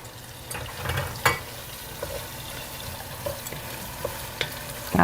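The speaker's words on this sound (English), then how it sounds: "We're gonna saute the mushrooms as well." Mushrooms sautéing in a pan for homemade soup, a low close sizzle with scattered sharp clinks and scrapes of stirring, no talking.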